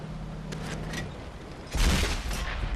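An M51 Super Sherman tank cannon fires once in World of Tanks, a heavy booming shot bursting out after a stretch of quieter engine and ambient noise, with a short ringing tail.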